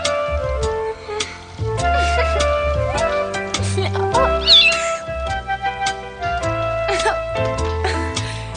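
A cat meows repeatedly in a French animated series episode, several drawn-out cries over background music, with people speaking around them.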